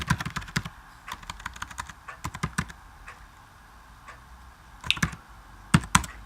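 Clicky computer keyboard keys tapped in irregular bursts while C++ code is typed in Xcode, close and fairly crisp, with pauses between short runs of keystrokes and no voice.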